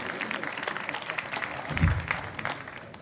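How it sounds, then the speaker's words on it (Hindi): Audience clapping at a Hindi kavi sammelan poetry gathering, a short burst of applause from the hall mixed with crowd murmur and a brief thump partway through. "एक बार उनका अभिनंदन करे पूरा सदन दोनों हाथ ऊपर उठाकर ताली बजाकर।"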